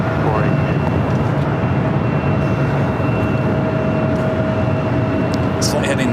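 Steady, loud jet roar of an Alaska Horizon Embraer E175LR airliner at LAX, a broad continuous rumble with a faint whine holding throughout, with no talk over it.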